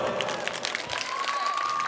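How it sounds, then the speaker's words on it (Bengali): Moderate applause and scattered clapping from a live concert crowd, with a sustained tone ringing over the clapping, steady and mid-distance. "একটু জোরে হাততালি শুনবো সবাই"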